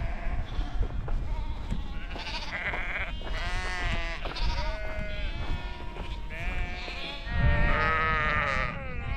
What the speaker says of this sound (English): Poor sheep here are not happy.